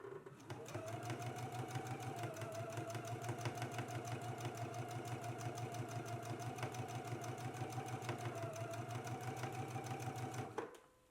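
A sewing machine stitches a narrow hem on a garment, running steadily at a fast, even rhythmic chatter for about ten seconds before stopping.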